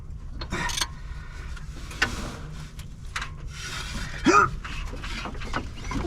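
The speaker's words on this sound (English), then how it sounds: "Let's get a wrench down there on the crank bolt, spin it over" A 5/8 socket wrench turns the crank bolt on a 1976 Chevy K10 engine that has sat abandoned for ten years, giving faint metallic ratcheting and rubbing with a couple of sharper clanks, close by under background noise.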